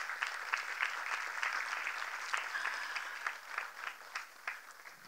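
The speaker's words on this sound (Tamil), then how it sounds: "அவங்களுக்கு ஒரு பெரிய கைத்தட்டு கொடுத்துருங்க." An audience at a Salangai Pooja dance event claps, a moderately loud, steady round of applause with some sharper individual claps standing out, rising and falling slightly and thinning toward the end.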